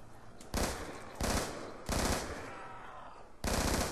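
Automatic gunfire in the zombies survival mode of Black Ops 2 on the Farm map, four loud, close bursts of rapid rattling shots separated by short gaps.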